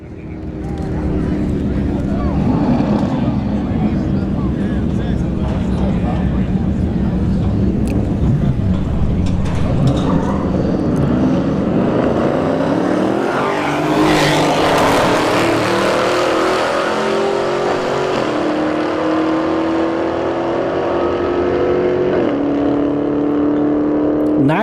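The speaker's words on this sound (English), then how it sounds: "we got a Scat Pack Charger right lane, AMG GT here in the left lane" A Dodge Scat Pack Charger and a Mercedes-AMG GT drag race at a test-and-tune event, a continuous loud roar that rises in pitch as they accelerate down the strip, with an announcer talking throughout.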